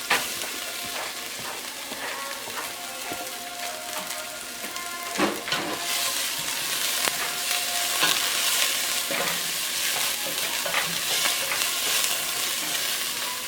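Garlic frying in oil for a Cuban chicken fricassee makes a steady, close sizzle. Occasional sharp clinks and scrapes of stirring cut through it, and no one speaks.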